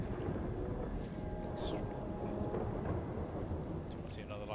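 Storm in the video game Eternal Castle Remastered: continuous heavy rain and low rumbling thunder fill the mix, with a few brighter crackling bursts and faint tonal game sounds on top.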